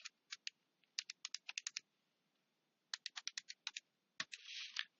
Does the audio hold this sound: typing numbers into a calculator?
yes